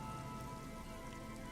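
Steady rain falling in the detective game Disco Elysium, a dense, even hiss of drops on hard surfaces that holds constant throughout with no voices.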